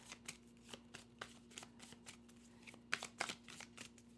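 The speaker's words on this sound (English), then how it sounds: "So let me get this shuffled up." Tarot cards being shuffled close up, a run of quick crisp riffling bursts with short pauses between them, no voices.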